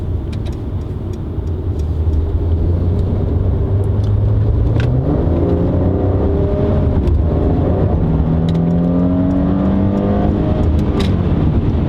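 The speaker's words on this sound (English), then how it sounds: "That was a kick down in comfort mode." A Mercedes C400 4MATIC sedan in comfort mode kicks down under full acceleration, its engine rising from a low rumble into a loud, sustained climbing roar with audible gear shifts, close and continuous.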